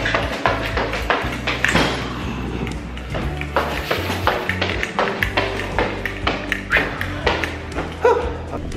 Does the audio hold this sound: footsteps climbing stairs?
yes